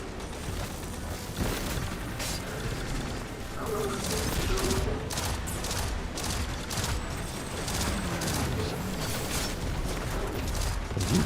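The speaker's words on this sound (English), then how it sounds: "You keep shooting me in the neck." Steady weapon fire in Destiny 2, a continuous spray of close, sharp shots over busy game sounds and faint background tones, without talking.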